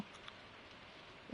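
Soft, steady rain hisses faintly in the Stardew Valley video game, a continuous gentle patter with no voices.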